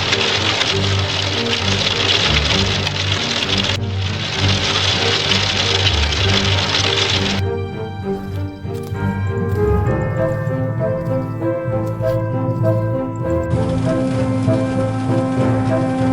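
Hail pelts down hard on a Serbian town during a violent hailstorm, a dense, continuous roar of impacts on roofs, cars and streets, with a low rumble underneath and no voices.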